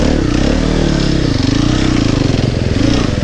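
A four-stroke enduro motorcycle engine revs close by on a hard enduro trail, a loud, rough, pulsing throb that holds steady throughout the short burst.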